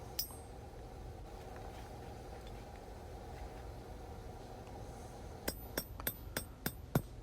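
A knife blank is struck with a hammer over a hardy cutter to cut off excess length, giving about seven sharp, ringing metallic blows in a quickening rhythm near the end, after a stretch of quiet workshop hum.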